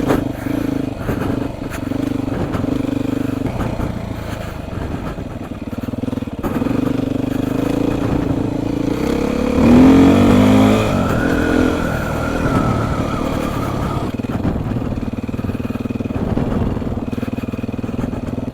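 A Beta four-stroke dirt motorcycle on a demo test ride revs and drones continuously, its pitch rising and falling with throttle and engine braking, with a sharp high rev around the middle and clattering over rough ground.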